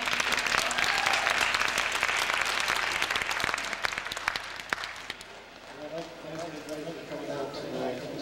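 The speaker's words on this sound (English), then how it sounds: "Please give a big hand for our first performer" Audience applause at a folk festival in Anchorage, a dense crowd clapping loudly and steadily, then thinning out as a voice begins speaking over the fading claps.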